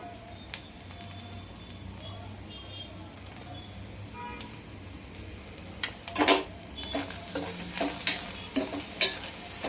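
Sweet corn frying in a pan while being stirred, with scraping and sizzling that grows louder and busier in the second half, alone without voices.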